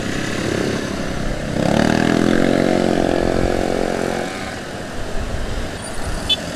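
A motorcycle engine revs up while riding on a road in Indonesia on a low-fuel commute, its harmonic drone rising loud and steady in mid-ride acceleration before easing back to a rougher idle-like hum.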